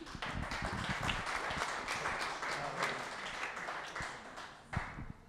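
Audience applause at a Slovenian national trade delegation event in Rotterdam, a steady wash of many hands clapping throughout with a few sharper claps near the end, moderately loud and fairly close, with some voices mixed in.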